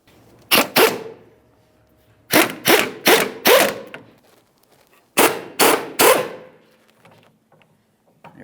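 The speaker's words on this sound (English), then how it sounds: "Let's use a 17mm to remove this upper mounting nut." A 17mm wrench ratchets off the upper sway bar link mounting nut on a 2006-2012 Ford Fusion rear suspension, heard as three close bursts of sharp metallic clicking, two, three and three quick turns, separated by quiet pauses.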